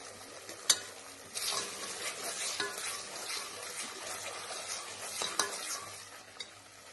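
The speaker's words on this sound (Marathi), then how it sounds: "2 मिनिटे आपण मसाला चांगला परतून घेणार आहोत, जोपर्यंत मसाल्याला तेल सुटत नाही तोपर्यंत." Masala for mutton curry is stir-fried in oil with a soft, continuous sizzle, broken by repeated scraping and clinks of a spoon against the pot.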